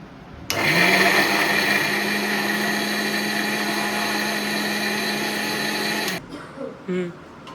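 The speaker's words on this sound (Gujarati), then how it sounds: "હવે આપણે મિક્સરમાં ગ્રેવી બનાવી દઈશું" A kitchen mixer grinder blends cooled sautéed tomato and onion into gravy, a loud steady whirring drone that starts abruptly, runs several seconds and cuts off, followed by short rattling bursts.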